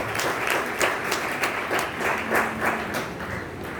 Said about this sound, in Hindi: आप संतोष से तालियां बजा रहे हैं